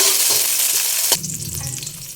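Onion, garlic and tomato sauté in hot oil in a pan, giving a loud, steady sizzle that drops and shifts in tone as the ingredients hit the oil partway through.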